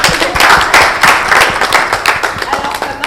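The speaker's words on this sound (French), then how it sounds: "On applaudit." Studio audience at a talk show breaking into loud, dense applause, close and energetic hand clapping filling the whole stretch with a busy, uneven rhythm.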